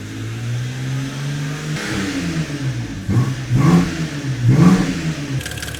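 BMW engine with a mean exhaust held around 3,000 to 4,000 RPM, revving in several rising swells that climb in pitch and loudness, heard close with no talk.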